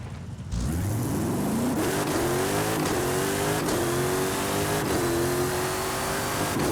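Muscle car engine in Forza Horizon 5 roaring at high speed near 200 mph, a loud continuous drone with rising harmonic pitch sweeps as it revs through the gears, steady and close throughout.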